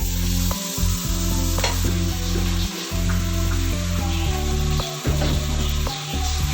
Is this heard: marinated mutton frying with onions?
yes